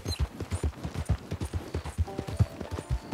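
Horse hooves clip-clopping in steady rhythmic beats in Red Dead Online, the paced strikes drawing nearer and growing slightly louder, with no speech over them.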